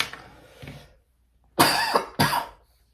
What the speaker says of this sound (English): Again, with that cough